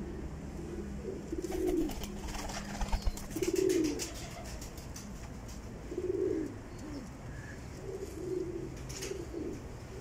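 Pigeons kept for flying and sale coo in several soft, throaty bursts, spaced a couple of seconds apart, close by over a faint background hum.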